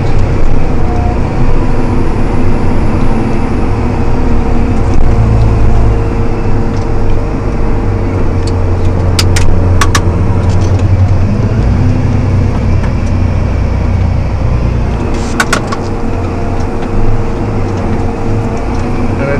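A John Deere 7280R tractor on worn, slipping tires pulls a plow across a field, its engine a loud, steady, close drone with a deep low rumble and a few faint high clicks, no talking.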